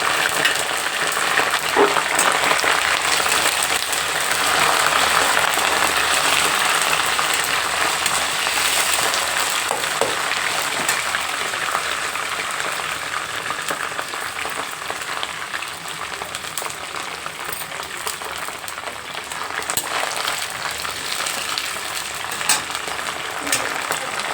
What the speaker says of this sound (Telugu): బాగా వేగాలండి ఉల్లిపాయలు. ఉల్లిపాయలు అయితే బాగా వేగాయండి. అలాగే కరివేపాకు వేసుకుందాం.